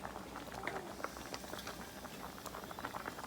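Groundnut soup being stirred in a cooking pot, giving a steady bubbling, simmering patter with small liquid clicks and scrapes, close and moderately loud with no talking.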